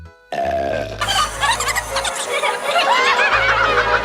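A boy in the 1990 film The Witches lets out a long, loud burp after a brief pause, followed by giggling and chuckling laughter layered over a low musical drone.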